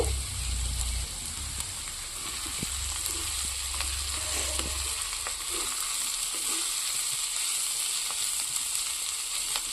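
Cauliflower, carrot, beans, potato and onion fry with dried and green chilli and poppy seeds stirred in a pan, a steady close sizzle with scattered scrapes and clinks of the spatula throughout, no talking.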